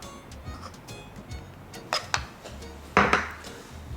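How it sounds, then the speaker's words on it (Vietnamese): A spoon stirs a cheese, milk, sugar and cornstarch mixture in a bowl, giving soft scraping with a few sharp clinks against the dish, close and fairly quiet. "Và các bạn sẽ khuấy đều lên."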